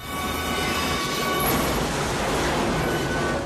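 A loud train rumbles past nearby, wheels clattering on the rails with a thin metallic squeal riding over the steady roar.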